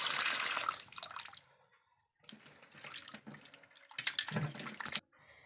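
Goat head meat being washed in water at home, with splashing and running water in bursts that pause briefly in the middle before resuming loudly, no talk.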